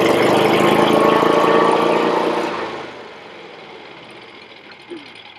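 A standby generator engine runs in manual test mode during maintenance, a loud steady mechanical drone that winds down and fades after a few seconds.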